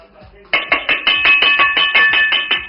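A stick bangs on a cooking pot in quick repeated strikes, about a dozen sharp metallic hits in a steady, fast rhythm, close and loud.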